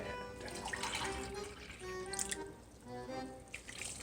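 Water pours steadily into a pot of chicken and vegetable puchero soup, a continuous close splashing and trickling that runs for a few seconds with no talk over it.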